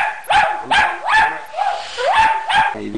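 Toy poodle barking repeatedly during at-home grooming, about six sharp, fairly close yaps in a steady rhythm, with faint background noise between them.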